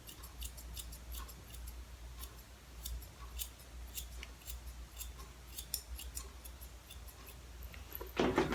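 Scissors trim mid-length hair in a home haircut, a steady series of soft, crisp snips close by in a quiet room, ending with a brief rustle.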